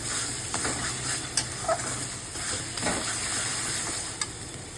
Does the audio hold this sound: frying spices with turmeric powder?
yes